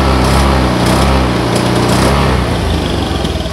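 A Honda Vario FI scooter with sluggish pull is revved on the throttle, giving a loud, close, buzzing high-pitched engine drone that holds steady with slight wavering and no talk.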